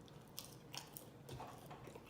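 Close, quiet bites and chewing of crunchy empanadas dipped in white Alfredo sauce during a mukbang, a few soft crunches spread over about two seconds.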